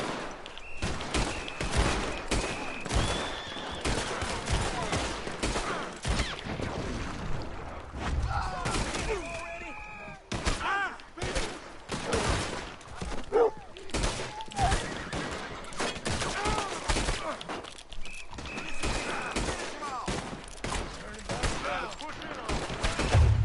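Dense, continuous gunfire from a Red Dead Redemption 2 shootout, with rapid overlapping shots and impacts throughout and voices shouting over the din.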